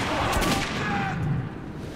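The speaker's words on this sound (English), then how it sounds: "Oh, I just shot him in the face!" Gunfire in the video game Metro 2033, a dense, harsh burst of shots heard close and loud for under two seconds.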